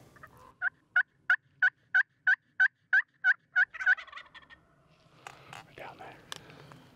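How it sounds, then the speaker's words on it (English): Wild turkeys gobbling in the snow in Eastern Oregon, a rapid rhythmic series of about ten loud gobble notes, then quieter scattered calls and faint rustling further off. "We got gobblers right here"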